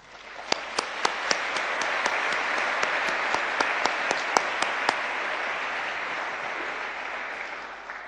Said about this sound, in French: Et surtout, nos applaudissements